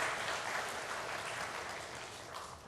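Congregation applauding during a church service, a soft, even wash of clapping that is distant and steady, gradually fading toward the end with no voices over it.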